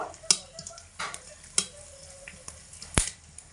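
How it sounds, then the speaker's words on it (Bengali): Whole bay leaves crackling in hot tempering oil for a star fruit pickle, stirred with a few sharp scraping and clinking spoon hits over a soft sizzle, close by with no voices. "দুটো তেজপাতা গোটা দিয়ে দেব ফোড়নে একটু নেড়ে চেড়ে দেব"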